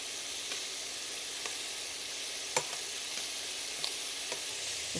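Prawns frying in an uncrowded pan, a continuous hissing sizzle held at an even level with occasional faint pops and a light tap as they are turned, no voices.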